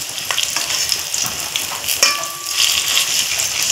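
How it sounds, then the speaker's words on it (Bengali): Dried fish fritters bound with fresh pumpkin leaves crackle in hot oil in a wok, a dense, steady sizzle running throughout with small pops and no voices. "বন্ধুরা বড়াগুলো উল্টো পাল্টা করে ভেজে নিয়েছি"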